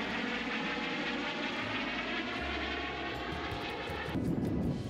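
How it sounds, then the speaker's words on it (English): Steady, loud engine roar of an Airbus H155 helicopter flying close by, with a constant whine and rumble, continuing without pause. "an Airbus helicopter H-155 mysteriously"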